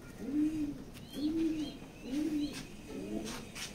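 Pigeons in a loft give four soft, evenly spaced low coos, fairly close but quiet, with faint rustling between them.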